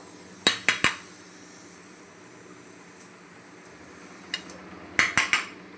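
Metal pan set down on a stove, a few sharp clanks close up, spread across a quiet kitchen.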